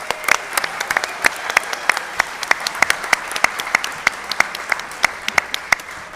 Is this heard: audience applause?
yes